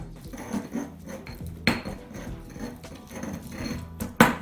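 Garlic cloves being ground into a paste with a mortar and pestle, giving repeated soft scraping and grinding rubs with occasional sharper knocks, close up and fairly quiet, with no talking.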